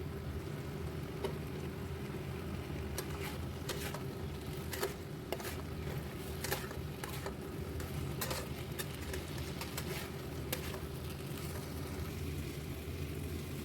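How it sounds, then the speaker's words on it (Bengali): Fried potatoes are tipped into a pan of hot spice mixture for a vegetarian aloo dum, giving a steady close sizzle with light scraping and tapping from stirring, and no talking. "এবার ভেজে রাখা আলুগুলো সেই মশলার মধ্যে দিয়ে দিলাম"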